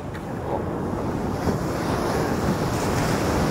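Waves wash continuously onto the shore at Nasugbu beach, with steady wind buffeting the microphone, loud and close with no voices.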